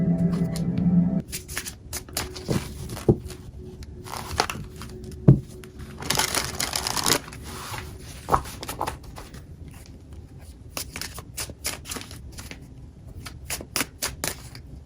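A Haunted House Tarot deck is shuffled and drawn from: crisp bursts of riffling card flutter, sharp slaps and snaps, and a longer rustling shuffle in the middle, close and fairly loud without speech.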